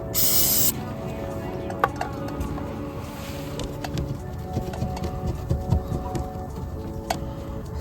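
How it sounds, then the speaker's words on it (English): A short aerosol spray burst at the start, Stoner Car Care Tar and Sap Remover misted onto a towel while detailing a 2002 Camaro SS, then quieter rubbing and handling noises under a steady background hum. "Spray a little on my towel."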